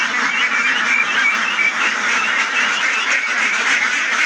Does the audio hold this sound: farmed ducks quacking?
yes